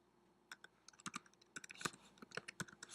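Typing on a computer keyboard to enter a filename: a close, uneven run of crisp key clicks with short pauses between bursts, and no voices.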